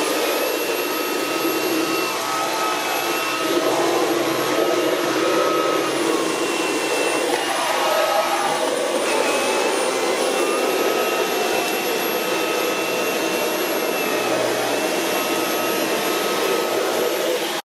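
A Dyson V11 Animal cordless vacuum cleans carpeted stairs, with a loud, continuous high-pitched motor whine and airflow roar that stays steady across the whole stretch, shifting slightly as the head moves, with no voices.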